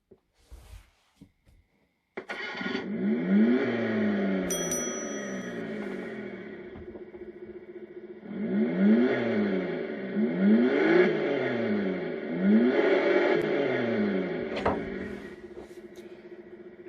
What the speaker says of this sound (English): Hands up if you like the V8 sound better